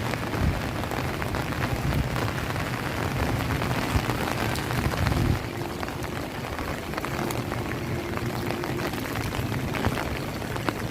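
Heavy rain pours down in Surigao City, a loud, steady hiss and patter on nearby surfaces with dense drops spattering throughout and no voices.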